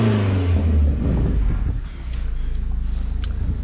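A rebuilt salvage car's engine runs just after a push-button start, giving a deep, sporty rumble close to the microphone, with wind buffeting over the steady idle.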